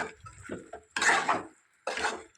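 Mutton stirred with salt, chili powder and turmeric in a pot, giving two scraping, sizzling bursts of spoon against metal with quiet gaps between.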